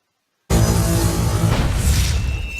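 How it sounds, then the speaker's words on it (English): Plasma artillery fires in the Battle Nations strategy game: after a brief silence a loud, booming blast erupts and rolls on, with a second heavy thump swelling partway through, close and unaccompanied by speech. "I'll use the Plasma Artillery to clear up the board"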